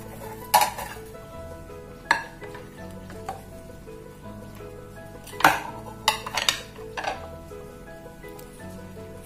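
Cooled Bombay Karachi halwa moved from pan to plate, with sharp metal spoon scrapes and clinks against dishes in scattered bursts, close and fairly quiet.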